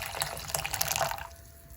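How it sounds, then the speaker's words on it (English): Water poured into a cup by eye, a steady splashing pour that runs close and fairly loud for just over a second, then cuts off into quiet room tone. "So it says to put a cup of water in"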